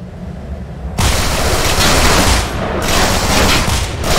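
A sudden loud burst of gunfire in the video game Manhunt 2 erupts after a quiet second and continues as a sustained, booming barrage, close and dense with no talk.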